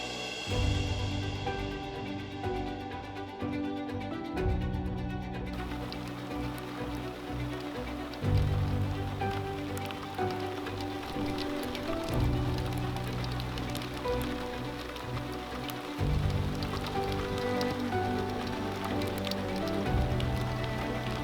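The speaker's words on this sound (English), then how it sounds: "The rain's really starting coming down now." Heavy rain pours down in Kruger National Park, a dense, steady hiss of drops pattering on surfaces that continues without a break over a low, banded hum.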